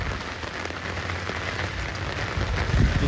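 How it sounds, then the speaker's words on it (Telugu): Floodwater rushing hard through a Hyderabad street during heavy rain, a steady broadband wash of water and falling rain that swells louder near the end, with no voices. "అంత ప్రెజర్తో వస్తున్నాయి వాటర్."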